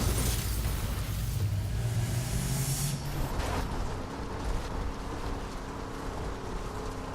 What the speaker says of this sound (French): J'ai explosé ma voiture.